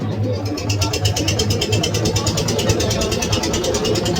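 A boat engine runs at Duldulir ferry ghat in the Sundarban, a loud, close, steady throbbing putter with a rapid regular pulse and no break in the drone.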